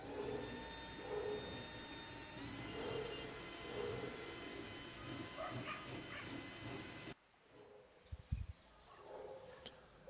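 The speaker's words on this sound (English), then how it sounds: "keep running the drill and you check whether it is sharp enough" A power drill runs steadily, sharpening a piece used to punch holes in a leather belt, with a continuous loud whirring hiss for about seven seconds before it cuts off and a few brief knocks follow.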